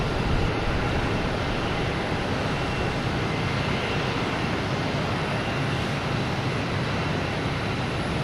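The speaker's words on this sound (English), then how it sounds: "We have a JetBlue coming in from the land of Eric, an A320, coming in from Tampa" A JetBlue Airbus A320 arriving from Tampa at Boston Logan Airport, a broad steady jet engine roar that stays loud and constant throughout, with no voices.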